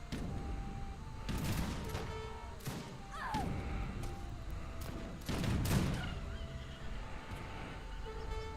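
Artillery cannons firing in the strategy game Age of Empires 3, a series of heavy booming blasts spaced a second or so apart over a continuous battle din, with no talk.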